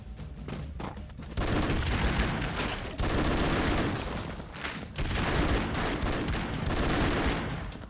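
Rapid bursts of gunfire in the video game Broforce crackle almost continuously, loud and dense, with brief pauses between volleys.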